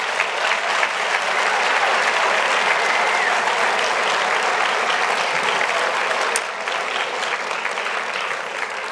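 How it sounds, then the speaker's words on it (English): An audience at a K–5 school Christmas concert gives the student singers a long, steady round of clapping that fills the room evenly and eases off slightly near the end. "let's give another warm round of applause to all of our singers"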